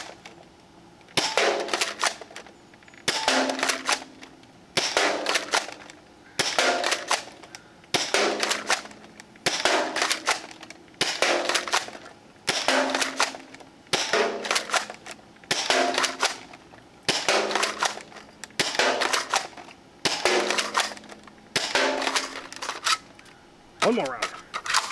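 A DartZone Pro MK 1.2 foam dart blaster fires about fourteen sharp snapping shots at a steady, roughly two-second rhythm. Each shot is close and loud, with quiet gaps between them.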